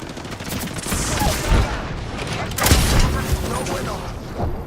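A frag grenade explosion in a shooter video game lands amid heavy gunfire, giving a loud boom and rumbling blasts over continuous shooting, with voices under the combat noise.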